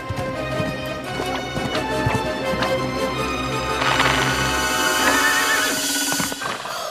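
Cartoon horse hooves clip-clopping at a steady trot through a busy musical soundtrack, continuous and fairly loud across the whole stretch, with no voices over it.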